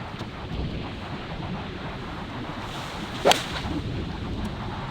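Wind blowing straight into the player on a golf course, a continuous rushing buffet against the microphone with one sharp gusty whoosh partway through.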